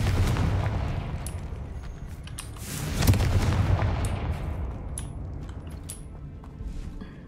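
Confringo blasting spell in the Hogwarts Legacy video game, a booming fiery explosion that swells to a loud burst and then fades into rumbling debris and scattered crackles, with no talking.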